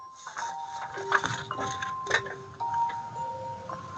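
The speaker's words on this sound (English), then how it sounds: "Whoever's got jingle bells, please mute it." A Jingle Bells ringtone chimes from a phone during a pathology lecture, a short sequence of clear, bell-like electronic notes in a simple melody, fairly faint with room noise beneath.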